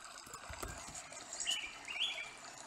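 A recorded bird call plays faintly over added stream noise, with a few soft chirps and tweets rising above a quiet watery hiss.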